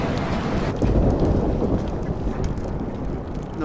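Rain pours steadily in the game Life is Strange while a deep thunder rumble swells early and rolls on under the downpour, loud and enveloping, with no talking.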